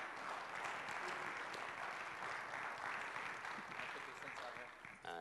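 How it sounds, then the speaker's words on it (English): A talent show audience gives a big round of applause, a sustained, dense clatter of clapping from a crowd that fades slightly toward the end, heard at a distance and fairly quiet. "Give her a big round of applause."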